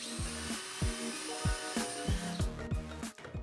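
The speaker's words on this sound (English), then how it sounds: "I used a larger drill bit to open it up" A drill with a larger bit whirs into veneered wood in short repeated bursts, its pitch dipping each time it bites, loud and close.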